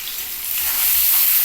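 Onions fry in a hot pan for a fish curry, a short burst of steady sizzling hiss that swells slightly, close and unaccompanied by speech.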